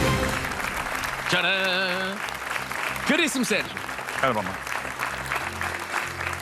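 Studio audience applause fills a Portuguese TV quiz show as a contestant is welcomed, a steady clapping wash beneath a host's lively talk and a short musical jingle.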